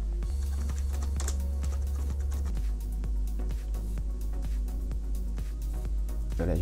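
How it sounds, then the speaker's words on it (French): Fast, steady computer keyboard typing of text in Photoshop, close and crisp key clicks over a constant low hum. "Et je vais écrire par exemple Tito Photoshop"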